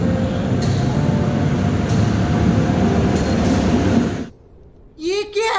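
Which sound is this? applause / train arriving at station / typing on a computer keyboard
train arriving at station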